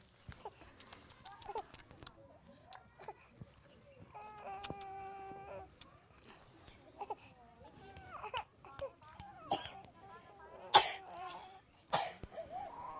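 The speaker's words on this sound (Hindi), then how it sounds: "जब देखो तब ये खांसता रहता है" A small child coughs several times amid fussy crying, with adults talking nearby between the coughs.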